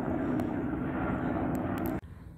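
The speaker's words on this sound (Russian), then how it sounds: "Ну, это летит как раз вертолет, и, по-моему, вертолет полицейский" A police helicopter flies overhead above Barcelona, its engine drone a loud steady rumble with a tonal hum that cuts off abruptly near the end, leaving quieter background noise.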